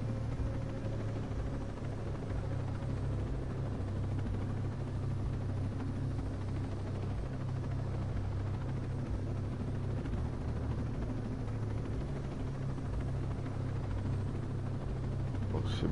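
A helicopter in the video game Ghost Recon Breakpoint gives a steady, loud, low rotor drone that never lets up and fills the whole stretch.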